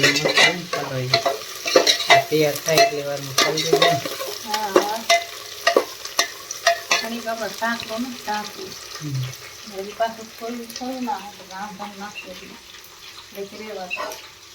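Onions fry in oil for a cluster bean and gram flour curry, giving a steady sizzle with stirring scrapes. A person talks over much of it, and the sizzle runs close and fairly loud beneath the voice.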